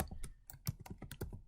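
Fingers tap quickly on a computer keyboard, a string of crisp, separate key clicks in an uneven rhythm, close and fairly quiet, with no voices over them.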